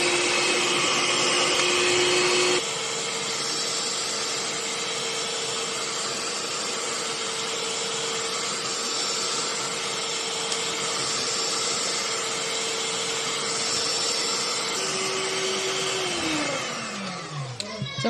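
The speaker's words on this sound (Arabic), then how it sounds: "انا هدي على اقل سرعه من الاول قبل ما يتقلب، وبعدين هبدا واحده واحده اعلي السرعه." An electric hand mixer whirs steadily at low speed through a mango ice cream mixture, its motor pitch shifting briefly near the start and winding down at the end; the droning runs continuously and up close, with no talk over it.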